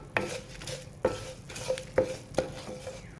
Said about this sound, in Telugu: కాస్త కలర్ చేంజ్ అయ్యే వరకు ఫ్రై అయ్యే వరకు ఇలాగ ఫ్రై చేసుకోండి ఆయిల్ అయితే తక్కువే వేసానండి నేను